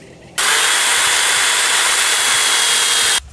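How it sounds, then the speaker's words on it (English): A power drill with a 3/8 inch bit bores holes for holiday yard decorations, a loud steady whine starting abruptly and running for about three seconds before cutting off, alone without talk. "take my 3/8 inch drill bit and start drilling holes"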